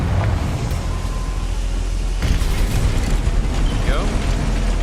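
A Confringo fire spell explodes in Hogwarts Legacy as a dense, roaring burst with a sharp crack, riding over continuous game noise while a voice speaks nearby.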